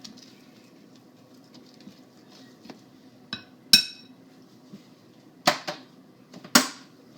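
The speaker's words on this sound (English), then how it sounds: "Just going to chop into smaller pieces so it can melt and solidify with the marshmallows a little bit better." A knife chopping s'mores tiramisu ingredients on a board in a home kitchen, with a few sharp, separate knocks and taps spaced unevenly over a quiet background.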